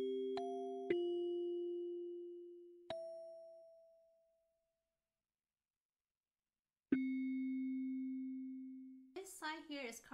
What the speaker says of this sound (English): This is what it would sound like in kalimba taps.